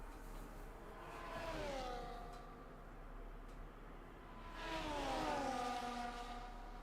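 Race car engines in a racing video game, set at a Chinese circuit, whine past in two separate rising-and-falling sweeps, faint and somewhat distant, with a quiet gap between them.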